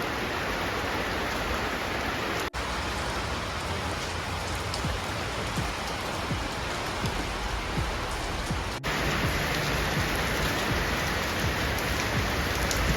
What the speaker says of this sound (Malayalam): ഇവിടെ അത്യാവശ്യം മഴ പെയ്യുന്നുണ്ട്